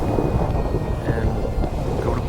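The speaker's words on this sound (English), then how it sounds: "so that the thunderstorm will go away because it's loud." A loud thunderstorm in Minecraft Pocket Edition rumbles continuously with deep, rolling low thunder and rain-like noise, close and steady with no voices.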